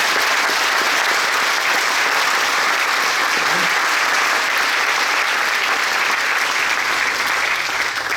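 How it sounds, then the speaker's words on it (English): A crowd at a training center building dedication in Calumet City applauds in a thick, continuous wash of clapping that holds steady and loud throughout, with no clear talk over it. "So let's give a round of applause."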